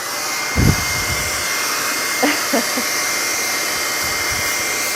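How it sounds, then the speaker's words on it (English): A hair dryer blows with a steady, loud airy roar throughout, with a few faint knocks and bumps underneath. "you can turn the blow dryer on"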